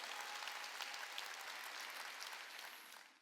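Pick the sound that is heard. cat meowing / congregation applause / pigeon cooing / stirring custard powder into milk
congregation applause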